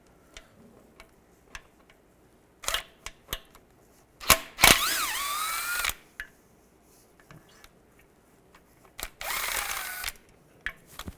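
Bolts come out of a 2002-2009 Chevy Trailblazer with a 10mm socket: quiet scattered ticks and clicks, then short loud bursts of a power tool spinning, two or three runs of a second or so each.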